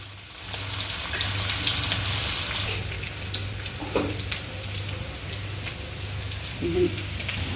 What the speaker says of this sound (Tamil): நெத்திலி மீன் வந்து இப்போ நம்ம கழுவி எடுத்துக்கலாம்.